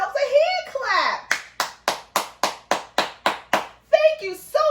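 Children clap their hands in time, about ten sharp evenly spaced claps, bracketed by someone speaking before and after.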